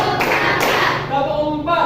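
A classroom of pupils standing and clapping together in rhythm on their teacher's count, a few loud unified claps close by, mixed with the teacher's voice calling out.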